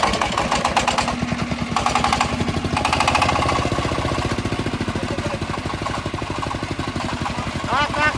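A ZH1110 20 HP air-cooled JD diesel engine runs close by with a loud, steady, rapid chugging beat that holds evenly throughout.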